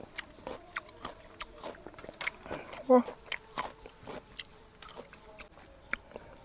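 Sour tamarind dipped in fermented fish chili dip is eaten up close, with crisp bites and chewing noises scattered among muffled talking.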